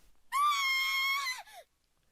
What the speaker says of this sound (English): The girls, now they all scream